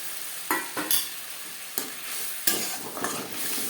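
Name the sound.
spice paste being stirred into frying onion and tomato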